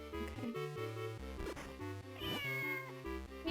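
A cat meowing in a few short, pitched calls over a steady melodic game soundtrack, fairly faint and without speech.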